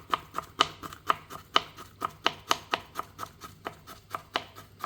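A knife slices pointed cabbage very thinly on a board, crisp rhythmic cuts about three per second, close and clear with no talking.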